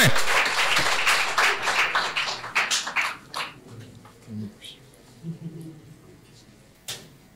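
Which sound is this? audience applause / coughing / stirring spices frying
audience applause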